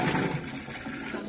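Potatoes and pointed gourd are rinsed in water, a brief close swirl and slosh of running water with a rushing, splashing texture.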